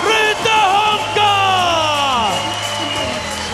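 An MMA crowd in Helsinki at a CAGE 50 event roars and cheers for Finnish fighter Markus Rytöhonka, loud and sustained, with shouts, whoops and rising voices filling the arena.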